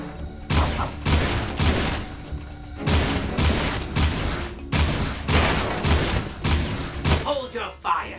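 Rapid bursts of blaster fire in the Jak and Daxter danger course, about a dozen loud sharp shots in quick clusters with short gaps, close and punchy over game background sound.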